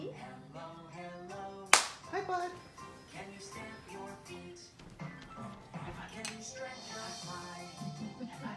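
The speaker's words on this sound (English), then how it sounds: "High five me again" A single sharp high-five hand slap lands early, loud and close, then the rest is people talking and singing over soft music.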